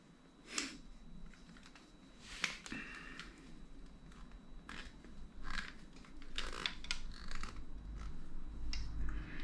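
Snips cut through a rubber air line being used as fuel line on a custom Harley-Davidson Sportster 48 build, giving a few sharp close snaps and clicks against low background noise, with no one talking.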